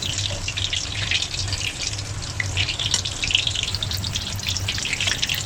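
Thick pieces of fish belly deep-frying in hot oil for a ginger and scallion dish, a steady close crackle and bubbling hiss running throughout with no voices.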